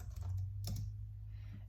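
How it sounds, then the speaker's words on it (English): A computer keyboard is typed on for a few light keystrokes while a pattern name is entered, heard close over a steady low hum, with one louder key click in the middle. "I'm typing in the name of the pattern that I think I want to make"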